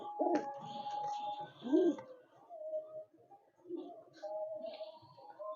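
Domestic pigeons in a full loft of Black Diamond birds offered for sale, with soft repeated coos and low calls rising and falling close by, mixed with a faint murmur of people talking.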